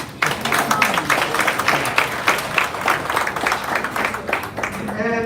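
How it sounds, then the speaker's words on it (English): Audience applause at a DC Democrats unity breakfast for Mayor Bowser, a loud, busy patter of many hands clapping throughout, with a voice speaking briefly near the end. "I want to make sure that we give her a wonderful round of applause."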